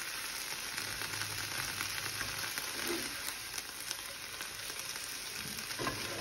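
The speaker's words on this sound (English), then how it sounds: "Get that nice sizzle going on there." Vegetables sauté steadily in a hot frying pan, a constant crackling hiss with an occasional stir, no talking.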